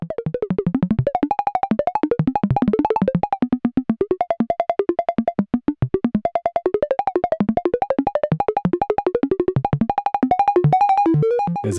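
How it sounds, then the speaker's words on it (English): A Make Noise 0-Coast synthesizer runs a West Coast drone patch, playing a fast, chirpy stream of plucky bleeps and warbles that leap around in pitch like a droid chattering. The sequence is loud and continuous for about twelve seconds, with no voices. "Now this is starting to sound a bit like the R2-D2 patch."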